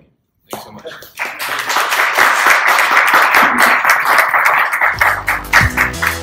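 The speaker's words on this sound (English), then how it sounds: "Thank you much for this final round of applause for that panel" Sustained audience applause at a blockchain tech summit for a panel, swelling quickly after a brief pause into a dense, steady clatter of many hands that holds loud to the end.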